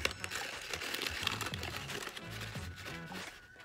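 Paper crinkling and rustling as a Cricut-cut paper candy box is folded in by hand, close and steady throughout with soft creasing noises and no talking.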